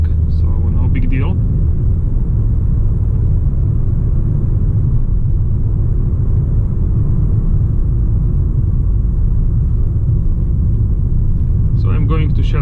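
A 2019 Mercedes A-Class AMG Line climbs a mountain road, giving a steady, loud low rumble of engine and road noise throughout, with brief talk at the start and end.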